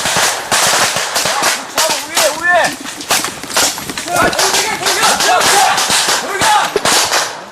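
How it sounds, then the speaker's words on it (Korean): Gunfire crackles in rapid, irregular bursts during an army KCTC combat training exercise, sharp loud cracks packed densely over several seconds while voices shout among them. "희미한 불빛과 총소리뿐 어디서 총알이 날아오는지도 분간하기 어렵다."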